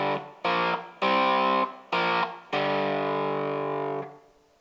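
Electric guitar playing a section of a riff, five crunchy distorted power chords in a short rhythmic phrase, the last one held and ringing out.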